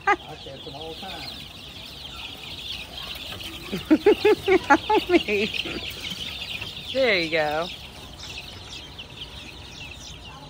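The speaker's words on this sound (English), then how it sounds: "Hi, little chicken." Small chicken clucking in a run of short, close calls, then a longer drawn-out squawk, with people talking nearby.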